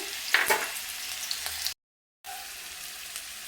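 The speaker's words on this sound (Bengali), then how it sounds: "তা আলুটাকে আমি কিছুক্ষণ ভেজে নিব।" Chopped potatoes sizzle in hot oil in a pan, a steady close frying hiss with a few stirring scrapes, cut off by a brief silent gap before the sizzle resumes.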